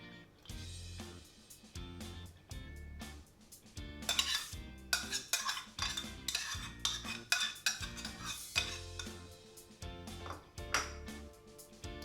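A spoon stirs flour and aromatics together in a bowl for saltfish fritter batter, making repeated clinks and scrapes against the bowl in an irregular rhythm, close and fairly quiet.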